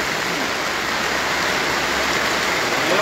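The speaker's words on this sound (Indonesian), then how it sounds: "memang dalam kondisi hujan" Rain falling outdoors during a Batak traditional ceremony in Simalungun, a dense, steady hiss of rainfall on surfaces with no pauses.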